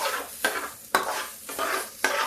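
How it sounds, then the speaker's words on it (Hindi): Dalia roasting in a little ghee in a pan while being stirred, with steady sizzling broken by four regular scraping spoon strokes, close and alone with no voices. "ये थोड़ा सा भून जाए, इससे इसको महक आने लगती है"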